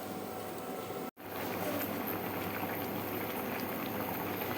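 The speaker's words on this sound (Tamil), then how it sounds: "இப்போ இந்த நாலு தக்காளியும் நான் இந்த மாதிரி வச்சுட்டு ஒரு அஞ்சு நிமிஷம் நல்லா கொதிக்க வச்சிடுறேன்" Steady bubbling of four tomatoes boiling in a pot of water for chutney, a continuous simmering hiss with one brief cutout, no voices.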